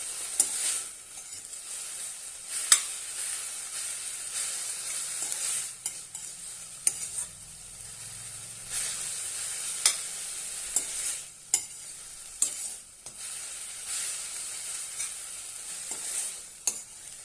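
Amaranth leaf vegetable stir-fried with coarsely crushed peanuts in a pan: a soft steady sizzle with irregular sharp scraping and clinking stir strokes, close and alone without talk.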